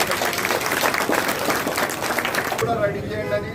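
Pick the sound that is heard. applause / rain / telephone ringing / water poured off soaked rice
applause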